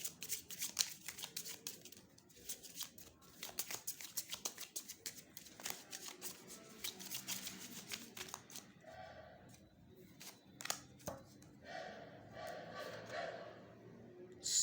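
Tarot cards are shuffled and drawn in quick, crisp riffling and flicking sounds, close and faint, with a soft voice murmuring near the end.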